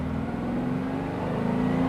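A restored Porsche 356 accelerates hard in second gear from low revs toward the redline, a steady, buzzing engine drone heard from inside the car, building gradually and staying moderately loud without any talk.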